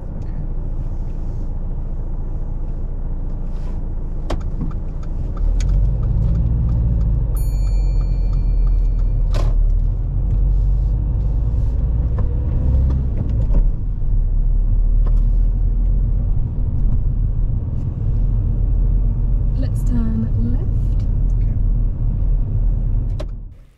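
A learner driver's car pulls away from the kerb during a driving test, its engine rumble swelling and holding steady at close range, with a few faint clicks and knocks inside the cabin and no talking.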